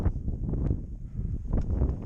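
Wind buffets the summit of Clingmans Dome on a cold day, a low, rumbling rush of gusts against the microphone that swells and eases over two seconds, with no talking.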